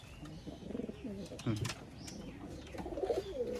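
Pigeons for sale give soft, low rolling coos in a few short phrases against a noisy background, fairly faint overall.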